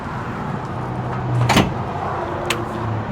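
A heavy exterior storage door on a Grand Design Solitude 390RK fifth-wheel RV is swung open outdoors, with a sharp close clunk of the latch releasing and a second lighter click, over a steady background rumble.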